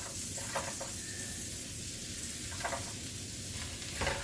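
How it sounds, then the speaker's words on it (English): Garlic, spices and vegetables frying in butter for a gumbo, a steady close sizzle with a few brief stirring scrapes and no talk. "Once that butter cooks that garlic and the spices start to cook with the vegetables"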